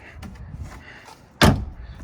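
The door of a 2021 Jeep Wrangler slams shut with one sharp, loud thud after a brief moment of quiet rustling, close by.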